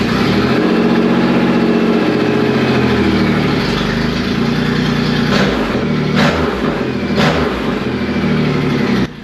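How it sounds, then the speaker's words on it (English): A Triumph Rocket motorcycle engine with twin exhaust pipes fires up and settles into a loud, steady, deep idle, heard close by throughout with a few sharper transient knocks near the end. "Switch it on and I can fire up the bike."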